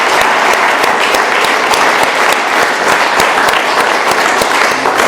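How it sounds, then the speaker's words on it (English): An audience claps steadily for a speaker named Scott at a Delaware AA meeting in Doylestown, Pennsylvania: dense, loud, sustained applause filling the room with no voices on top. "Let's give our speaker, Scott, a round of applause one more time"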